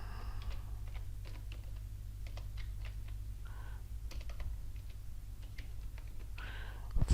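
Keys clatter on a computer keyboard in irregular bursts of light clicks while a word is typed into accounting software, over a steady low hum.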